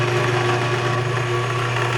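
A Bauer 12-inch variable speed drill press runs with a loud, steady motor whir and belt-and-pulley hum, constant and close with no talking.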